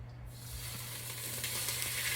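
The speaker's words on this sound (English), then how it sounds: "browning it with avocado oil" Marinated chicken browning in avocado oil, with a steady close sizzle that holds throughout, with no talking.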